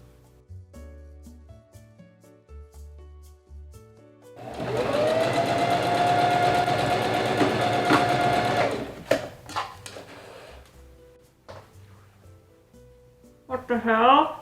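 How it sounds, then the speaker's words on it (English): A sewing machine stitches a dress together, a loud, steady whirring hum lasting several seconds before stopping, followed by softer handling clicks and fabric rustles. "So I'm going to go ahead and get started sewing this dress together"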